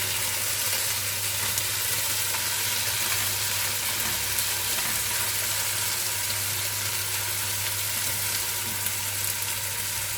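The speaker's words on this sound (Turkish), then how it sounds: "iyice kızarana kadar bu şekilde aç olarak pişecek." Potatoes fry uncovered in a pan with a loud, steady sizzle and crackle that holds evenly throughout, close and with no voices.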